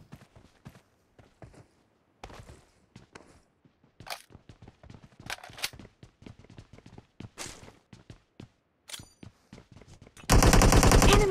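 Gunfire in the mobile battle royale game BGMI, scattered single shots and short bursts over several seconds, ending in a loud sustained burst of automatic fire, no talk.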